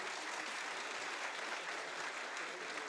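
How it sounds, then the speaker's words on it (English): Audience applause greets a Czech Senate delegation at a Taiwan–Czech trade and investment forum, a steady, dense wash of many hands clapping throughout, with no speech over it. "please stand up and receive our applause"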